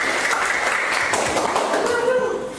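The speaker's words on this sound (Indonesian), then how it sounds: "tepuk tangan dulu buat caranya" Students in a high school informatics classroom give a brief round of applause, a dense patter of clapping at moderate distance with some voices mixed in, tapering off toward the end.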